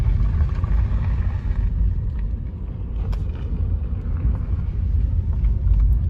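A 2016 Nissan Leaf electric car drives along through the countryside, giving a steady, low road rumble with light wind buffeting and no engine note.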